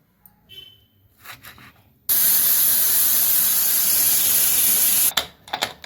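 A loud, steady high-pitched hiss of steam blasts from a pressure cooker whistle, cooking bottle gourd and potato curry, for about three seconds, cutting off abruptly amid quieter kitchen clatter.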